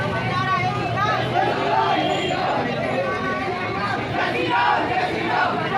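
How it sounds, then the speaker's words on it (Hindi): A school children's rally procession passes by, a loud, continuous crowd of young voices chanting and shouting together with steady background babble. "देखो कितनी अच्छी रैली निकाली जा रही है, और स्कूल के बच्चे हैं"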